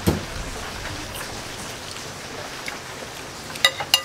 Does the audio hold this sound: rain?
yes